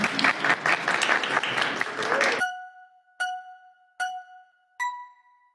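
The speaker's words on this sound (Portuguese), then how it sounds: "Palmas para Cássio ali" Audience applause during a debate between one Christian and twenty-five atheists, a dense burst of clapping that cuts off after about two seconds and is followed by three clear, evenly spaced electronic chimes ringing out in quiet.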